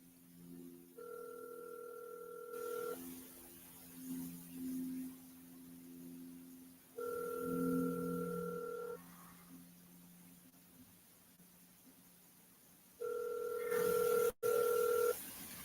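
A telephone ringback tone pulses on and off three times in long, evenly spaced bursts while an outgoing call goes unanswered, with a faint low hum underneath.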